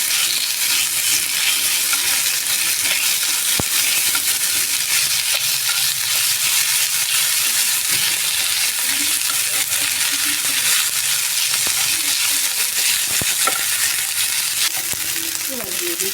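Garlic paste and ginger paste frying in hot oil in a pan after fish was fried, giving a steady, loud, broadband sizzle that holds for the whole stretch, with a few faint clinks and stirring sounds.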